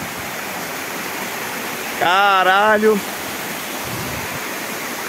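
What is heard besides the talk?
waterfall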